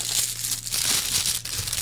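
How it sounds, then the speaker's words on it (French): Paper packaging crinkles and rustles up close and loud while a collectible figure's base is unboxed, with steady crumpling that swells and eases in small bursts. "Séquence ASMR papier."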